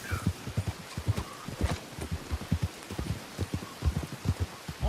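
Steady rain falls in the Red Dead Redemption 2 video game, a continuous hiss under a rhythmic clip-clop of horse hooves, with no talking.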